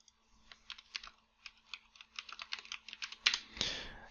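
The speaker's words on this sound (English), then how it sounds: "I'll type it in the chat" Someone types quickly on a computer keyboard, close and fairly quiet, with clusters of light key clicks in an uneven rhythm, ending in a louder thump and a short burst of noise.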